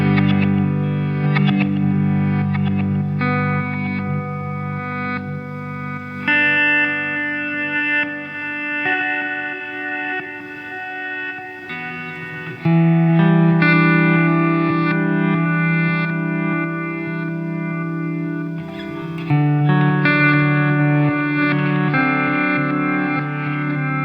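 On an ambient pedalboard, an electric guitar plays slow chords and notes through a slow, tap-tempo delay, each phrase washing into long trailing repeats with a slightly distorted, shimmering tone across the whole stretch.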